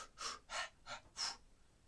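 Four distinct, soft breaths in quick succession with short pauses between them, airy and close, alone in quiet.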